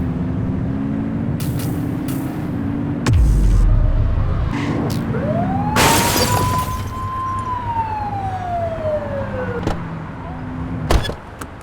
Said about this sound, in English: Get behind them and blip the siren and make them pull over